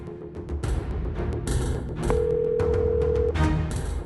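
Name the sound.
phone ringing, call not answered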